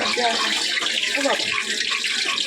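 Rainwater left by a heavy storm is emptied out indoors, splashing and pouring continuously and close by while a person talks over it.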